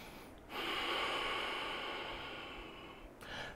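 Steady heavy breathing held through a yoga class backbend, a long continuous airy exhale-like rush lasting several seconds, close and fairly loud, with a brief gap and another breath at the end; no talking.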